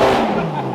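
Ferrari 430 Challenge race car engine roars loud and close in a brief burst, a dense low-mid growl that eases slightly toward the end, with a voice mixed in.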